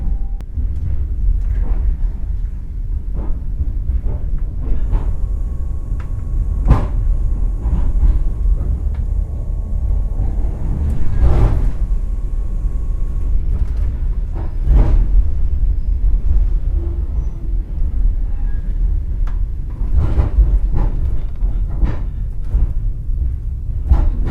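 A Trans-Siberian train slows as it nears a rural station, giving a loud, steady low rumble with repeated sharp clanks and rattles of the cars on the rails, heard from inside the train throughout, with no talk.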